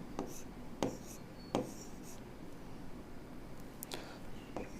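Pen scratching on paper while a remainder calculation is worked out by hand, a few faint strokes and taps spread over several seconds, quiet and close with no talking.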